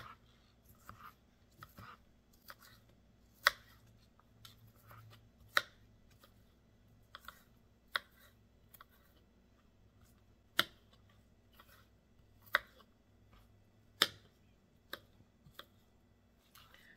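Knife chopping ingredients for Arizona taco relish into tiny pieces on a cutting board: sharp, irregular close taps spaced a second or two apart, with softer ticks between, heard alone over a faint hum.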